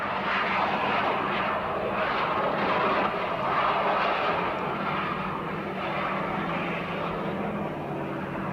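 A fixed-wing airplane circling before an emergency belly landing: a steady, loud engine drone holds throughout with a slight swell and fade, heard alone.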